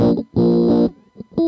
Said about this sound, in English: you still hear that there is a bit of distortion going on, or delay, or whatever this effect is